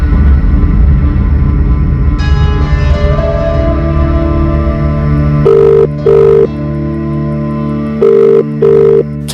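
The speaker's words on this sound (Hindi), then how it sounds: "मैंने 10:30 तक उनका इंतजार किया और फिर उन्हें फोन लगाया।" A telephone call rings out: two pairs of steady electronic ringing tones sound over a sustained dramatic musical drone, loud and clear, with a short pause between each pair.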